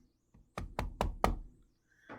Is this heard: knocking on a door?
yes